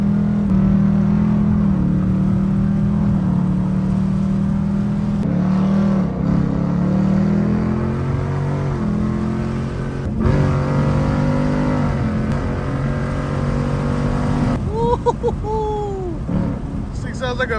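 A Ford Mustang GT running on E85 fuel accelerates on an empty road late at night, its engine droning steadily with rising revs and pitch shifts as it pulls through gears, heard from inside the car.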